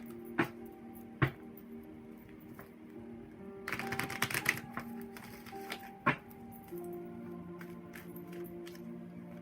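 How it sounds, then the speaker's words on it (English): A deck of tarot-style reading cards is shuffled during a card reading: a brief rustling riffle burst in the middle, with soft taps of cards before and after, all quiet and close. "These are cards for Terry White, so I'm just going to give these a good shuffle too"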